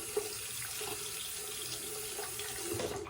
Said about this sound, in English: I have been becoming a fan of tempering the razor and the blade with the hot water.